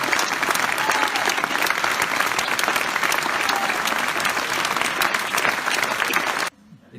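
An audience claps in a theatre hall to thank the technical crew after a comedy show, with dense, steady applause that carries on for several seconds and then stops abruptly.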